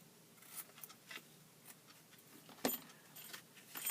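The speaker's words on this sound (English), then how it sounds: "And then cut your ribbon at the top here." Scissors cut through ribbon on a handmade chocolate favour card, producing faint, soft snips and light rustling close by, with one slightly sharper click partway through and no speech.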